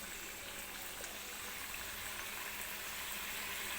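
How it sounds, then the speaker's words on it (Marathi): Rose-shaped balushahi pastries deep-frying in oil, producing a steady, soft bubbling hiss that continues evenly throughout with no talking. "हलकासा गोल्डन रंग येईपर्यंत आपल्याला ही तेलामध्ये तळून घ्यायचे आहे"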